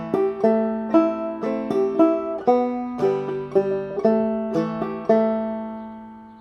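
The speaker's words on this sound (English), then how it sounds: "the rhythm for this goes bum ditty bum ditty bum, and it should sound like this." Banjo picks out a short melody in lilting 6/8 time, bright plucked notes ringing in a bouncing rhythm, close and clear, with the final note left to ring out.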